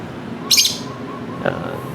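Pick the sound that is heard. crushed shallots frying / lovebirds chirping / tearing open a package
lovebirds chirping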